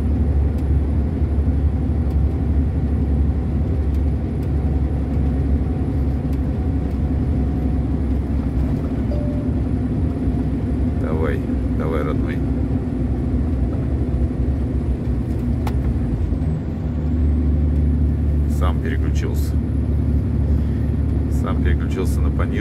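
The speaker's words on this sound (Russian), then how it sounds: "Переключился на пониженную, потому что чувствует, что хозяин, мне же, говорит, тяжело" A heavy truck engine drones loudly and steadily under load on a road in Perm Krai, dipping briefly in pitch as it downshifts from a high gear, while someone talks over it.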